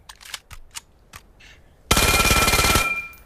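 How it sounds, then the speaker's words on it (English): The APC-9 Pro submachine gun in the VR shooter Vail lets out one rapid, loud burst of closely spaced shots lasting about a second, preceded by a few soft clicks and handling noises. "This gun is honestly one of my favorite guns. It's like a really fast SMG."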